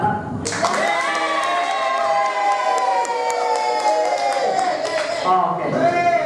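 Teachers at an in-house training session cheer and clap loudly for a colleague, with whoops and shouting from the crowd and a voice audible over the sustained noise.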